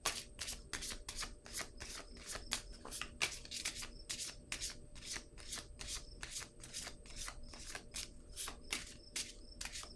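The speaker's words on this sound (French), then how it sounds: "Je vais piger une autre carte sur celle-ci." A deck of playing cards is shuffled in a long run of rapid, crisp riffling bursts, steady and close, with no voices.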